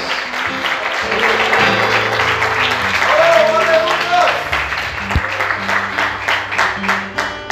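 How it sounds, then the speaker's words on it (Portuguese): A church congregation applauds during an evening service, steady clapping mixed with voices and a sustained keyboard tone underneath, with a lone shout rising briefly above the crowd. "Você pode aplaudir Jesus nessa noite."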